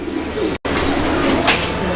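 Fancy pigeons at a pigeon sale coo loudly and close by in a brief, throaty, repeated burble, with a momentary cut partway through.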